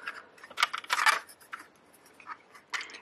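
Scissors snip through quilting fabric in several short bursts, loud and close, with quieter cuts trailing off and no talking over them.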